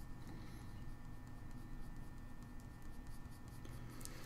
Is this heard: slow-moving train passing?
no